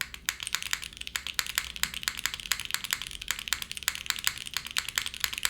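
Rapid typing on a Keycult TKL mechanical keyboard fitted with HMX switches, bright crisp keystroke clacks in a quick steady stream, close and clear with no talking.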